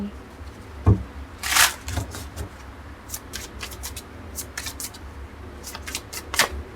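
Tarot cards being shuffled during a reading, with a brisk riffle burst early and lighter card flicks and taps following, close and moderately loud, while someone speaks intermittently.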